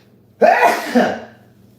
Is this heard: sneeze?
yes